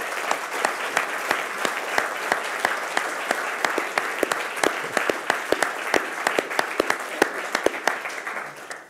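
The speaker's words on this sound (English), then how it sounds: "Please applaud this man as he returns to your meeting." Loud, sustained applause fills a hall at a formal medal investiture ceremony, with dense overlapping claps and some sharper individual hits, steady throughout and tapering slightly at the end.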